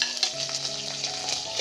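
Onions and green chillies sizzle and fry in hot oil in a pan for mushroom biryani, a steady close crackle with stirring throughout and no voices.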